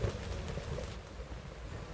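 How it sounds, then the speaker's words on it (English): Steady rain pours on an evening forest road in the game Shadow of the Road, a dense, even hiss with low rumbling beneath, continuous and fairly close, no voices. "On a rain-soaked evening, they arrive at their destination."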